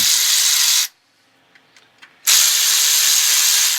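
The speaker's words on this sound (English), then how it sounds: "we got to kind of make sure we keep these hold downs straightened up while we take these bolts down" A power tool drives bolts on the seat hold-downs of a 1980 BMW 528i E12 project car, whirring loudly in two long bursts separated by a short pause with faint clicks.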